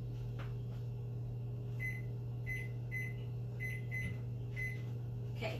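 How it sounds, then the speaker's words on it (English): A microwave oven's timer being set while banana muffins are baked, about seven short electronic beeps in an irregular run of button presses over a steady low appliance hum, close by with no talk. "Timer in the microwave."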